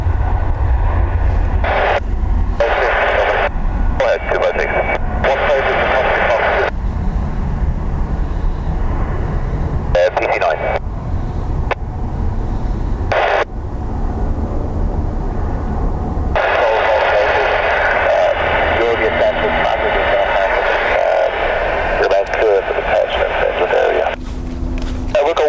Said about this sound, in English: Very early rotating, so quiet, the Neos